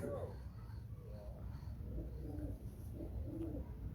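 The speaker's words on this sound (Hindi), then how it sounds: "ये खुद मेरा उड़ा हुआ कबूतर है" A domestic breeding pigeon coos in soft, repeated low calls, fairly close, over a steady background hum with faint voices.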